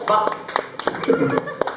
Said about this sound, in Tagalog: Palakpak na lang tayo lahat